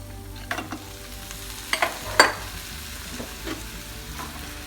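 Mutton pieces with carrot and potato for a Kerala-style stew stir-frying in a pan: a soft continuous sizzle with several clattering spatula strokes, one loud scrape near the middle, nearby and with no talking.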